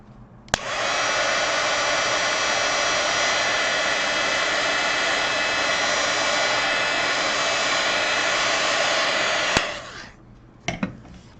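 A hair dryer roars steadily for about nine seconds, close and loud, drying a mixed media watercolor painting on hot press paper, then switches off with a few faint clicks.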